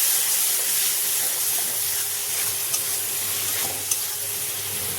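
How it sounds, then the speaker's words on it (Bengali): Spice masala with Kashmiri chilli powder and a splash of water fries in a pan while being stirred, giving a constant loud close sizzle with faint scraping and a couple of light utensil taps. "মশলাটা ভালো করে আগে কষাবো।"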